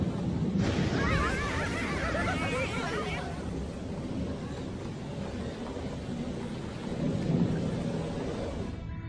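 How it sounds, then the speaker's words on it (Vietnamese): Cartoon storm scene in an animated Nezha film, with rumbling thunder and constant hissing rain filling the whole stretch and brief character sounds mixed in early on. "Vừa sấm sét vừa có mưa"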